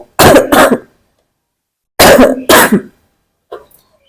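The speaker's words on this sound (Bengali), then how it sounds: "একটু কাশি টাশি এখনো লেগে আছে" Two pairs of sharp, close coughs with a pause between them, then a faint breath, in an otherwise quiet room.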